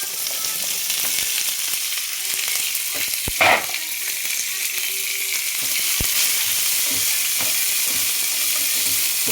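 Sliced onion and garlic frying in a pan for a bitter gourd onion curry crackle in a close, continuous sizzle, with a short louder burst of stirring partway through and no talking.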